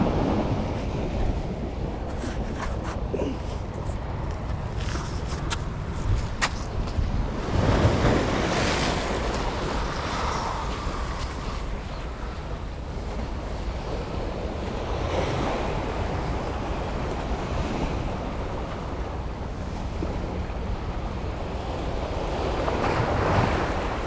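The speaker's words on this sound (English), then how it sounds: "Welcome to Payun Beach." Ocean waves break and wash onto Payun Beach in Rayong, Thailand at sunrise, a continuous surging roar mixed with gusty wind buffeting the microphone, with no one talking.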